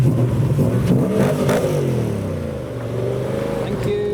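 Sports car engines rev at a car show as cars head back into the pits, a loud, steady mechanical roar with rising and falling harmonic sweeps lasting throughout.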